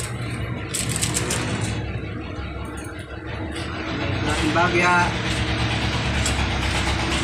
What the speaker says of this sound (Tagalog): mga lumalabas po yan ng jeep. Medyo maingay yung makina.